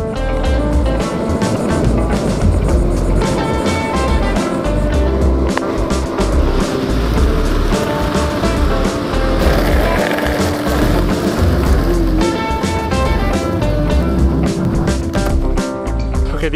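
Penny board skateboard rolling on bigger aftermarket wheels, a steady loud rumbling roll that continues throughout with dense background noise and no clear breaks.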